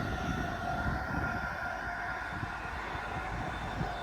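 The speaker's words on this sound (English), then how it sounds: "that was a freight train coming through at a very high rate of speed" A freight train passes through a railway station at very high speed, filling the whole stretch with a loud, steady, close roar and rumble without any break.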